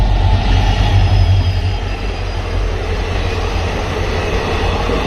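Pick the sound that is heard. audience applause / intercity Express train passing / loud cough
intercity Express train passing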